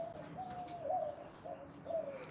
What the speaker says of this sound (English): You hear the pigeons? These are like they almost sound like doves, but they're pigeons.